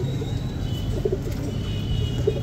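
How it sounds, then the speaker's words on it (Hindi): Pigeons coo softly at a breeder's loft in Amroha where breeding pairs of kala patet, khal and lal jogiya birds are kept, low gentle coos repeating over a steady background hum. "सब एक से एक हसीन सब बने हुए कबूतर हैं दोस्तों"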